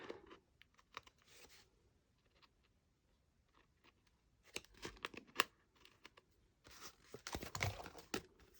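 Paper card being trimmed while making a dress-shaped birthday card, faint close snips and crinkly paper rustles coming in scattered bursts, busier and louder toward the end.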